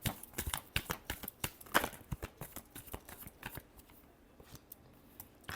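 Tarot cards are shuffled by hand in a quick run of crisp riffling flicks, close and fairly soft, tapering off toward the end.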